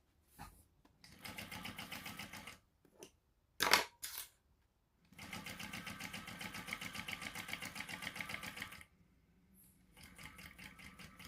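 A sewing machine runs a narrow seam around the outer edge of a shoulder bag, whirring steadily in two long close runs split by brief stops and a few short clunks.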